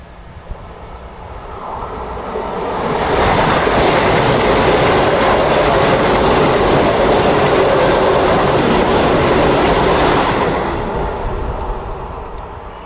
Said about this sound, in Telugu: సో మన ఎదురుగా చూసుకుంటే నాగ్పూర్ సికింద్రాబాద్ వందే భారత్ ట్రైన్ అయితే వస్తుంది.